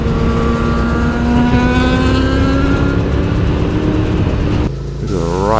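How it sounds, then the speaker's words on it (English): A car engine revs up loudly with rising pitch, holding high, then drops briefly before climbing again near the end. "Need to get a bit of speed, so I need to get a bit of air over my engine."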